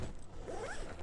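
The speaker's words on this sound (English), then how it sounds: "And then I believe we only have to unzip this" Quick zipper pull opening a panel on a Gazelle five-sided pop-up gazebo, a single short, close zip with no voices.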